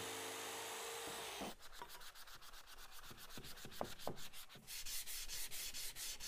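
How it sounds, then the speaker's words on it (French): Repeated back-and-forth scraping of sandpaper rubbing a surface before painting, a rhythmic gritty rasp with steady strokes, close up and moderately loud. "On pensera donc à frotter avant de peindre."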